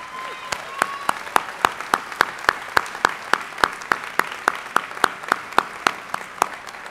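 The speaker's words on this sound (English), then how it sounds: "Students, please join me in a round of applause for your family who've made this journey possible" A commencement audience claps for families, sounding like a sparse, evenly spaced run of single sharp claps close to the microphone rather than a full crowd, steady for several seconds.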